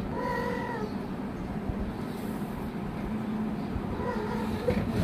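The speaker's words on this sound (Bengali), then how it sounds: "তো আমার বাসায় যেহেতু অনেকগুলো বিড়াল আছে, একটু পরপরই ওদের শব্দ চলে আসে" House cats meow indoors, one short meow at the start and another near the end, both moderately loud over a steady background hum.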